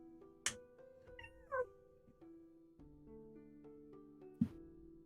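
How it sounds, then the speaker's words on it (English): A domestic cat meows a few short times in quick succession, close and clear, over a steady low electronic hum with no talking. "There goes the cat."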